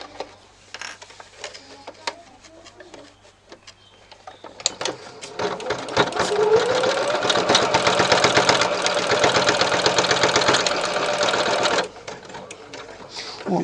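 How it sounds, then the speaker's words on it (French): A sewing machine stitches the pleats of a fabric face mask. After a few seconds of quieter handling and clicks, the motor whirs steadily for several seconds, loud and close, then stops abruptly. "Il suffit de coudre ses plis pour qu'ils tiennent."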